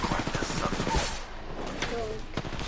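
Rapid video game gunfire, bursts of automatic shots crackling close by in quick succession, with voices calling out over the firefight.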